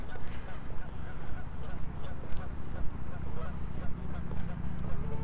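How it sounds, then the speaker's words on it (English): Geese swimming on a lake formed by a dam honk amid steady outdoor ambience, with busy, overlapping calls throughout and possible faint voices in the background. "These are the geese that swim in the lake that's made by the dam."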